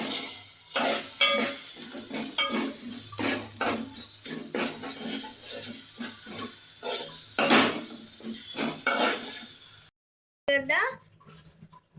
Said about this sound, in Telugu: అల్లం వెల్లిగడ్డ పేస్ట్ అయితే వేసుకోవాలి. కలుపుకోవాలి.